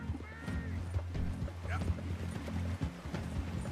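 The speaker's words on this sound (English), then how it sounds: "I'm taking his horsey." Hooves clip-clop steadily from a horse in the Red Dead Redemption 2 video game, with game music and background sounds underneath and a brief whinny partway through.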